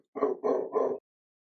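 A dog gives three quick barks in a row, close and fairly loud, and then stops. It is heard alone against a quiet background.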